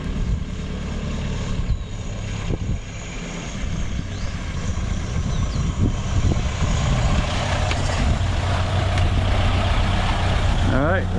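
A 1930 Model A Ford drives down the road, its engine a loud, steady low rumble mixed with broadband road and wind noise that persists throughout.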